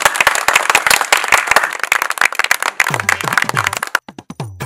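A village crowd bursts into loud, close applause of many hands clapping fast and irregularly, thinning out toward the end as a few claps remain and voices come in.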